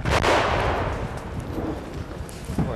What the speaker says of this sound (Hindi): रूसी तोपखाने ने आंद्रेई के काफिले को निशाना बनाना चाहा.